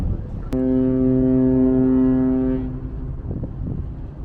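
A deep, loud ship's horn blasts once for about two seconds at the port entrance in Karlskrona, Sweden, a steady droning tone, then cuts off, leaving wind and open-water rumble.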